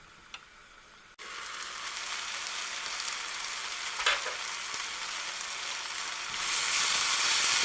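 Chicken curry frying in a pan, a steady close sizzle with stirring scrapes, growing louder and hissier toward the end, with no talking.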